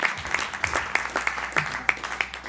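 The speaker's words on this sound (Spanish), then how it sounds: "Dale un aplauso al Señor." Church congregation applauds in rhythmic unison, claps landing on a steady beat of about three per second, with sharp peaks over a continuous clapping background.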